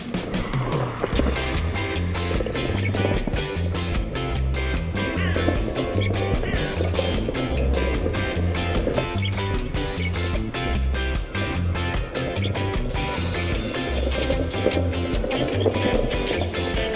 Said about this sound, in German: Da kann ich auch schnell mit dem Skateboard fahren, solange es trocken ist.